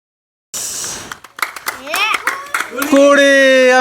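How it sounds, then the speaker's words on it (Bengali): Hand clapping for a child taking a turn in a spin-and-break-the-clay-pot party game: scattered sharp claps mixed with noisy chatter, with children's voices and calls rising over the claps toward the end. "আমিরুলের জন্য একটা জোর হাততালি।"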